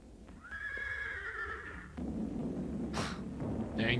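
A horse lets out a long, loud whinny lasting over a second, followed by rustling movement, a sharp snort or burst, and more shuffling close by.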